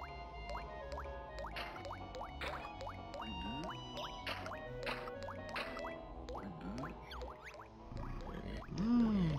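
Water dripping and trickling into a pool in the video game Banjo-Tooie, with repeated bright plinks and splashy drips over a steady watery background, plus swooping cartoonish game effects near the end.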